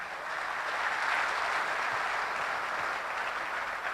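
Audience applause filling a training hall, a dense steady wash of clapping that swells slightly and holds for several seconds with no voices over it.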